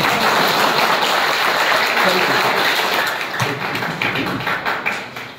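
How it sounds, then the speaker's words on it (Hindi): Loud, close applause from a lecture audience welcoming a speaker to a network marketing talk, thick and continuous at first, then thinning into scattered individual claps toward the end. "एक जबरदस्त ताली आप लोगों के।"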